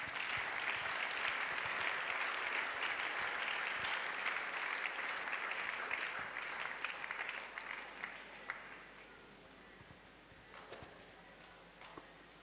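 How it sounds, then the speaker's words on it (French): A congregation applauds at an evangelism, salvation and healing crusade: a dense, sustained wave of crowd clapping that stays loud for most of the stretch, then thins and fades toward the end. "Yes, please clap, clap, clap."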